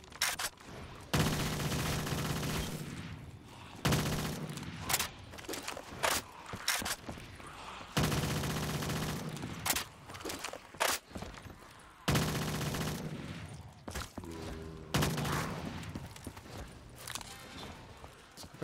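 Gunfire in Black Ops 3 Custom Zombies comes in repeated long bursts of rapid automatic shots, loud and close, separated by short pauses and scattered single shots.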